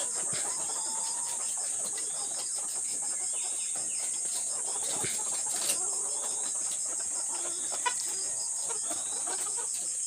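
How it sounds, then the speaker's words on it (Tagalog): Layer chickens clucking steadily in a poultry house, soft overlapping clucks and calls with a constant high insect-like hiss above, no voices. "Itong mga manok ko."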